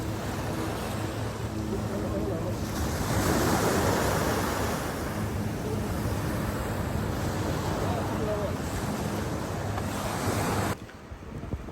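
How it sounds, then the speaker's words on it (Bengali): Ocean surf rolling and crashing steadily on a Maldives beach with heavy wind rumble, swelling louder in the middle, and faint voices under the roar. "এই যে সাগর পাড়ে অনেক ঢেউ"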